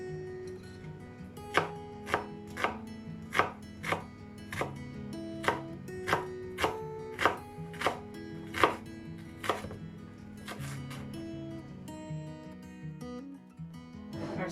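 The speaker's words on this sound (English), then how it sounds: "Now time to chop our onion." An onion being finely chopped with a knife on a board, a steady run of about a dozen sharp, close chops at an even rhythm, then quieter cutting toward the end.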